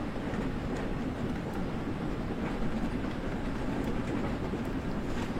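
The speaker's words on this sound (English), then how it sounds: "not being able to get the locomotive up to speed" A locomotive train runs along the rails, a steady low rumble with faint rhythmic clatter, heard at moderate distance and fairly quiet throughout.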